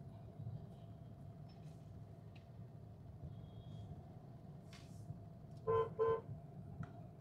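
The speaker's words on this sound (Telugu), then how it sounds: "ట్రాఫిక్ చాలా ఎక్కువ ఉందండి ఈవినింగ్" Evening traffic moves along a busy main road in Kakinada, a low steady hum of engines with a couple of sharp car horn toots near the end and faint passing vehicles in between.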